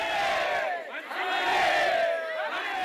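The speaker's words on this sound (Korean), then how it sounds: "우렁찬 함성이 거리를 온통 뒤덮습니다." A crowd at a street reenactment of a 1919 independence manse movement rally in Imsil shouts loud sustained cheers, many voices rising and falling together in a continuous roar.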